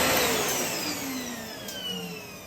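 A repaired Hitachi vacuum cleaner runs close and loud with a steady motor roar and a high whine that sags slightly over a couple of seconds.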